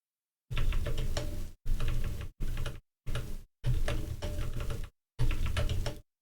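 Rapid clicking keystrokes on a computer keyboard while code is typed, in several bursts separated by short silent gaps, close and fairly quiet.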